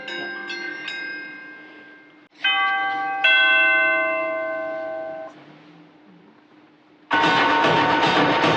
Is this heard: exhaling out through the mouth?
no